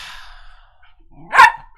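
A single sharp dog bark sounds close by near the end, preceded by a faint drawn-out whine or breathy sound in a quiet room.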